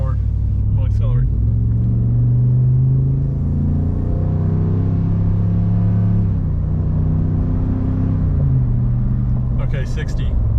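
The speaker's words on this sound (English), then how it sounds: "I'm at like about 30 miles an hour. I'm gonna accelerate." A Ford F250 with a 7.3 diesel and a 4-inch MBRP exhaust accelerates from about 30 mph, its loud, deep engine drone climbing steadily in pitch and then easing off, with brief talk at the start and end.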